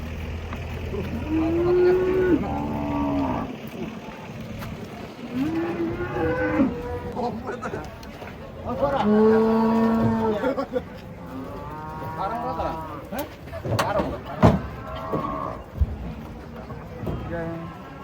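Cattle being unloaded from a truck moo repeatedly with long, low, drawn-out calls, some overlapping, while people talk in the background between the lowing.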